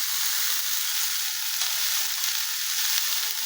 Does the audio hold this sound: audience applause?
no